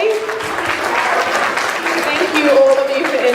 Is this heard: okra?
no